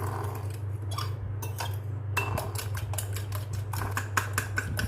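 Eggs and sugar are beaten by hand in a bowl, a run of quick, rhythmic clinking taps against the bowl close up, with a steady hum underneath.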